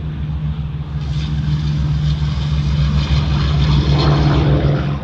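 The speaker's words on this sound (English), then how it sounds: "Following behind is the Lockheed Pv2 Harpoon." A Lockheed PV-2 Harpoon warbird flies past at the California International Airshow, its piston propeller engines giving a steady, loud droning hum that swells slightly and stays continuous over the whole stretch.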